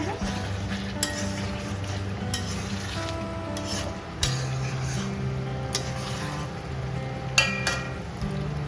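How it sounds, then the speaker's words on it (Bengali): Chicken cooking down in a covered pan for biryani, a constant low sizzle with occasional sharp metallic clinks and taps of the lid and utensil, no voices. "ঢাকা চাপা দিয়ে আমি চিকেনটা কষিয়ে নেবো।"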